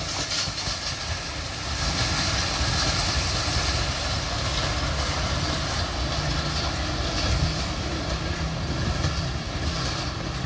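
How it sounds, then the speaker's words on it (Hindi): Lasani Express passenger train passing at speed, a loud, steady roar and rattle of wheels and carriages that holds for the whole stretch without letting up. "आपने अभी जो रेल एक्शन देखा, ये लसानी एक्सप्रेस का रेल एक्शन था जो काफ़ी अच्छी स्पीड से पास हुई।"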